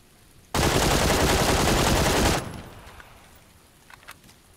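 An M249 light machine gun in a shooter game fires one loud, unbroken automatic burst of about two seconds, then falls away to faint distant pops.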